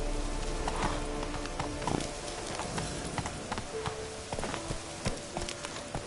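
Rhythmic clip-clop of horse hooves galloping in a PS4 video game, close and steady with repeated thudding beats, a faint snort or whinny mixed in.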